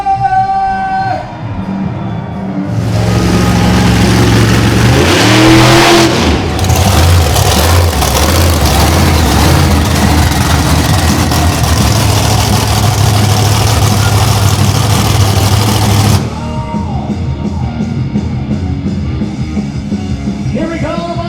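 A monster truck engine roars loud and continuous for about thirteen seconds at an arena show in Frederick, Maryland, rising from a lower rumble and then cutting back to crowd noise.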